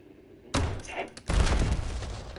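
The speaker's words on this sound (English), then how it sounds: "Let's shoot a grenade all the way." A grenade fired down a firing range in the video game Black Ops: a sharp, loud launch blast followed under a second later by a heavier, booming burst that rolls on with a rumbling tail.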